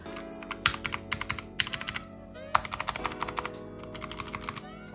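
Rapid bursts of clicky mechanical key presses on a SteelSeries keyboard, close and crisp, arrive in quick rhythmic runs with short pauses between them.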